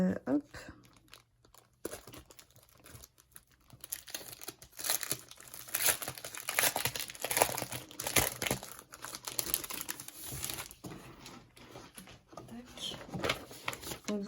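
Paper and plastic packaging crinkle and tear as a parcel of scrapbooking supplies, including a sheet of cut-out labels, is opened. The rustling is close and fairly steady, with a quiet voice speaking now and then.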